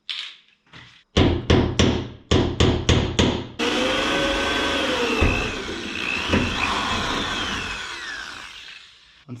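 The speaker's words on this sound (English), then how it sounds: "we're ready to drill the hole for the next one." A drill cuts into a Toyota Tacoma hood bracket, starting with a quick series of sharp repeated bursts, then settling into one long continuous whirring grind that fades out at the end, loud and close.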